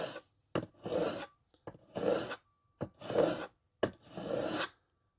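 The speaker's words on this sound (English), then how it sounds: "Then I start off with 400 grit on the diamond sharpening pad and give it a few swipes to get it nice and sharp." A carving tool is swiped across a 400 grit diamond sharpening pad in four rasping strokes, each about a second long, with short pauses between them, close and clear.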